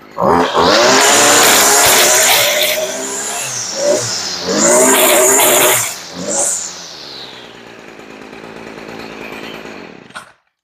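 Stihl FS 56 RC string trimmer fitted with a Hipa speed-feed head: a loud, close two-stroke engine revving hard, dropping and surging again several times, then settling to a lower drone before cutting off.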